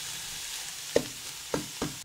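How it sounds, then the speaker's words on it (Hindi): Sarson ka saag, mustard greens being fried in a pan, gives a faint steady sizzle with three soft stirring knocks near the end and no talking. "साग हमने भून लिया है"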